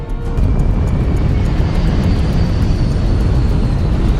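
An airliner on runway 24 left roars steadily through its takeoff run, a loud, close and continuous engine rumble with no voices over it.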